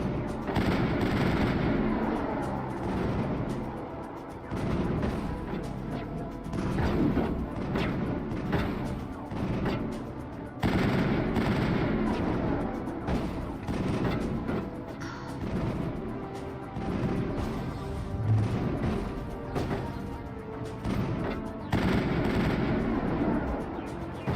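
Sustained gunfire fills a firefight in Mass Effect, with dense rapid automatic bursts and single shots overlapping almost without pause against a rumbling, noisy battlefield backdrop.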